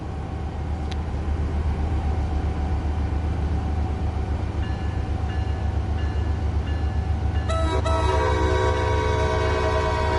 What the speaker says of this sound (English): So let's hear the train scream out of the station for the last time.